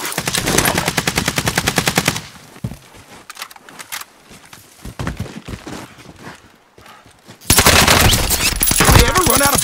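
Rapid automatic gunfire in the video game Call of Duty: Warzone Pacific: loud, dense bursts for about two seconds, then scattered lighter shots and thuds, and a second heavy sustained burst near the end.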